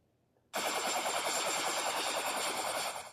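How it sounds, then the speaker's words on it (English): Helicopter sound effect from a sound matching card game, starting abruptly after a brief quiet moment and then holding as a loud, steady rotor whir with rhythmic chopping to the end. "Helicopter."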